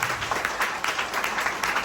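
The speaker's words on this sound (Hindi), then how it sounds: "जोरदार तालियां अपने लिए" An audience at a network marketing business seminar claps in a dense, steady burst of applause, many hands close together with no clear pauses.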